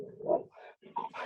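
A dog barks a few times in the background of a county fiscal court meeting held by phone, heard faintly over the line in short yipping bursts.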